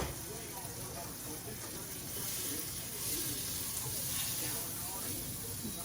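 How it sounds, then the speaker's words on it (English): Butter sizzling in a small saucepan before shrimp go in: a steady, bright frying hiss runs throughout and swells slightly partway through, with quiet talk underneath. "We're going to add some butter in this little saucepan here."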